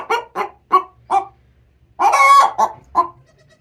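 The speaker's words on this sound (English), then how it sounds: "See if you can hear me with Rita squawking." A chicken squawks loudly and close by in a run of short clucks, then lets out a longer, harsher cry before a few final clucks.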